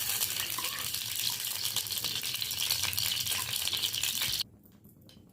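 Ghee for tempering moong dalma sizzles in a pan with a steady crackling hiss close by. The sizzle cuts off abruptly near the end, leaving quieter rattling.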